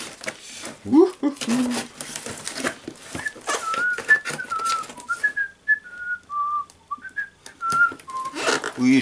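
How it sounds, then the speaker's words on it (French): A man whistles improvised, made-up tunes as a run of clear held and sliding notes, with spoken French and handling noises around it during the unboxing of a Tokyo Marui Five-seveN airsoft pistol. "j'invente des airs en sifflant"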